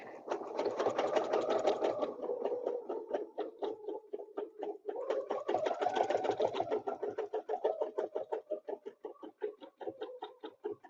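Sewing machine stitching around a quilting ruler template, running in quick rapid bursts of needle clatter with a short slowdown and restart, the stitches separating into distinct pulses near the end; close and fairly quiet, with no talking.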